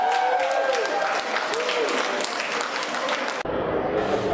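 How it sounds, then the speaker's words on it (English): A crowd at an airport arrival for a badminton world champion claps and cheers loudly, with voices rising over the applause before the sound cuts abruptly. "Touching down to loud applause and flashing cameras"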